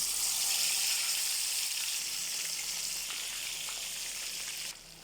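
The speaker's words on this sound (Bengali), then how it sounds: "মুরগি ফ্রাই করার জন্য" Chicken pieces frying in hot oil in a pan, a steady loud sizzle that holds for several seconds and eases slightly near the end, with no voices over it.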